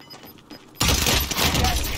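Burst of gunfire in the Warzone battle royale game erupting suddenly after a quiet moment, a loud dense crackle of rapid shots lasting to the end.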